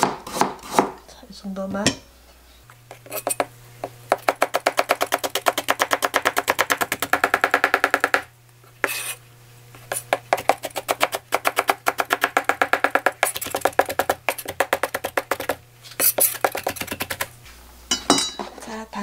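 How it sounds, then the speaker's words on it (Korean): Carrots being minced with a knife on a cutting board, rapid loud chopping bursts in quick runs separated by short pauses, with a brief spoken word near the start and a low steady hum underneath. "당근도 조금만 다질게요."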